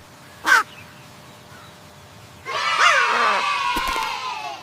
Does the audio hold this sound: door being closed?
no